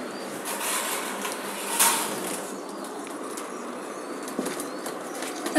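Pigeons, imported fancy breeds, flap their wings in short bursts as they are lifted out of a loft one at a time, with one loud flurry standing out over a steady background rustle.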